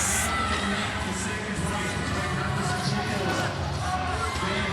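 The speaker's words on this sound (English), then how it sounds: "Crowd starting to get a little bit vocal here at Kudos Bank Arena" A crowd fills Kudos Bank Arena at a fitness competition's regional event, keeping up a steady roar of cheers and shouts with no breaks. A commentator's voice runs over the noise.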